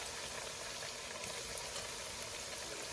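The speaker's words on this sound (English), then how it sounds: "you're only going to fry these until they're crispy" Plantain slices fry in hot oil, giving a dense, even bubbling hiss that stays steady and moderately quiet throughout.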